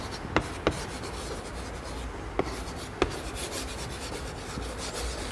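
Marker or chalk strokes on a classroom board while drawing a pie chart make soft rubbing scratches, with a few sharp taps as lines begin, heard close and without talk.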